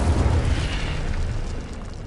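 A fiery spell burst in a Hogwarts Legacy game, a single whooshing blast that erupts at full strength and then fades over about two seconds.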